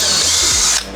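Power drill driving pilot holes into wood, a loud steady whine held close for most of the burst before cutting off abruptly near the end, with no talking over it.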